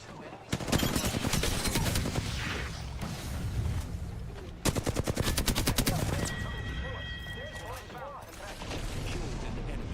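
Video game gunfire in a battle-royale style round: rapid automatic bursts with mechanical clatter, loud and repeated across the clip, broken by short gaps and game interface sounds.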